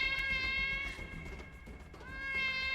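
A cat meows twice, drawn-out, tonal calls near and fairly loud, one at the start and another near the end, over a steady low background hum.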